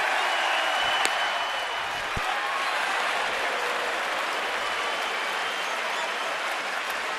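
A baseball stadium crowd at a Cubs game in Washington on July 4, 2011 cheers and applauds for Kerry Wood, a dense, sustained roar of clapping and voices that holds steady throughout.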